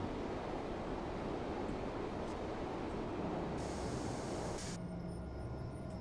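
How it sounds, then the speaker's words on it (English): An electric train brakes in Train Sim World 3 on the Edinburgh to Glasgow line. A steady, rushing rolling noise is joined by a thin, high brake squeal that rises and then cuts off. "Brakes sound good."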